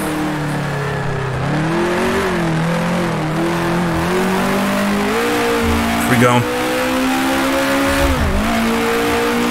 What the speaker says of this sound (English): Always feels like you're either over-revving or bogging down in this car, the Climax engine